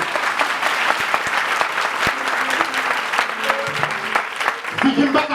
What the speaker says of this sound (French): applaudissez Isaac là pour tout le temps